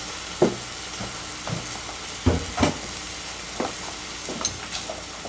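Shepherd's pie filling sizzles in a hot pan while a spoon stirs it, giving a steady frying hiss broken by several sharp scraping strokes at uneven intervals, close and clear with no talking.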